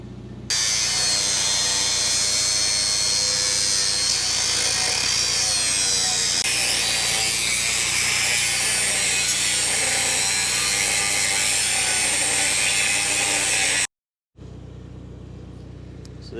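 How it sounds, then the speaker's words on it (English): An angle grinder grinds down a weld on steel gussets for a homemade road drag, giving a loud, continuous high-pitched whine and rasp that runs steadily for about fourteen seconds, then stops abruptly before faint sounds resume. "So there it is after hitting it with the grinder."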